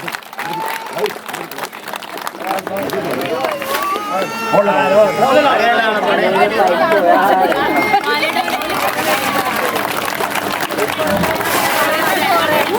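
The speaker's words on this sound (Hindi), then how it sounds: "एक बार जोरदार तालियों से स्वागत कीजिए।" Applause welcomes guests at an employees' gathering in a village. The clapping builds and carries on under loud crowd chatter and talking, and the clapping is partly masked by the voices.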